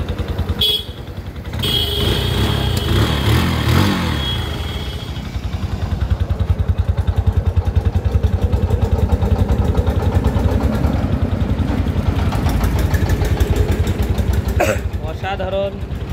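An old second-hand Bajaj Boxer motorcycle engine starts up and settles into a steady chugging idle, heard close and loud while someone talks over it.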